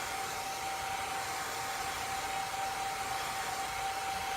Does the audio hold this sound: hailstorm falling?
no